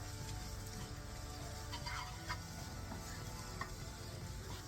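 Curry spices fry in hot oil in a pan, a faint continuous sizzle with occasional soft stirring clicks, heard alone without talk.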